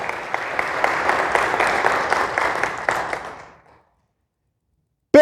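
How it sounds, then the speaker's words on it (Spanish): A church congregation claps in praise, many hands beating in a steady, even rhythm that carries on for about three seconds before fading to silence. "Dale un aplauso al Señor"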